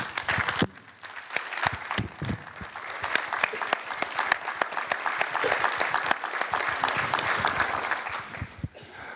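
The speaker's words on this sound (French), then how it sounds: "Merci beaucoup de les applaudir." Audience applause at the close of an insurance general assembly in a large conference hall, sustained and dense with many hands clapping, loud and continuous for about nine seconds.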